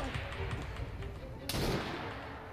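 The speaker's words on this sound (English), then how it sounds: "Who's shooting?" Gunfire in the video game Assassin's Creed Syndicate: a sharp, loud shot bursts out over a continuous noisy din of game ambience, with rumbling rapid reports following close by.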